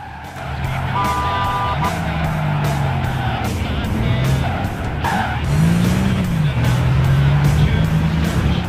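Race car engine in Gran Turismo 6 revs and shifts through a corner with tire squeal and skidding, loud and continuous, with a steady game soundtrack underneath.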